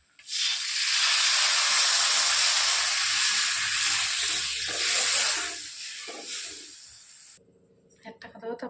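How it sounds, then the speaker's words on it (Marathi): Water poured into a hot spice masala of asafoetida, coriander powder and turmeric bursts into a loud, sustained hiss of steam that fades after several seconds, followed by faint clinks. "आता आपण टाकत आहोत पाणी"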